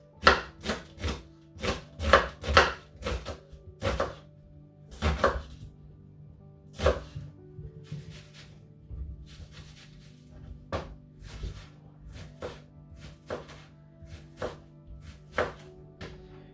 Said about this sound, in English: we're going to just chop it up nice and small, because we don't want big chunks of red onion in our salsa mix